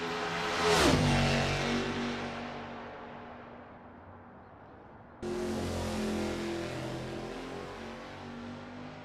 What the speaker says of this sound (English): Kevin Lekmansky is on his practice out lap